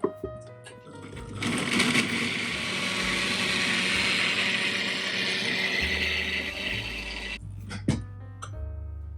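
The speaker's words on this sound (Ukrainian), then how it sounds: "Накриваю кришкою та буду подрібнювати. Вмикаю комбайн." A food processor crushes dry biscuits into crumbs, a loud continuous whirring grind lasting about six seconds, with lid clicks and handling knocks before and after.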